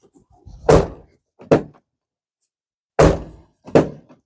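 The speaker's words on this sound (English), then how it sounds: "So now we see how the door closes." Chevy Silverado truck door, 1999–2007 generation with upgraded interior, shut twice in quick pairs: each a close solid thunk followed by a lighter latch knock, separated by a pause.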